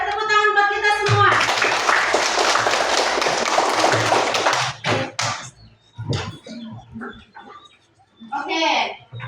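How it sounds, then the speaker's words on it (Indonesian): Children in a classroom clap their hands in a dense burst of applause lasting a few seconds, followed by scattered sounds and a teacher's voice speaking. "beri tepuk tangan buat kita semua"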